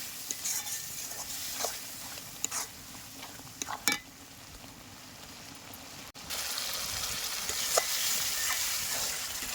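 Spice paste sizzles in hot oil while being stirred for a desi chicken curry with raw plums, a steady close frying hiss with scattered scraping clicks from the spoon, growing fuller partway through.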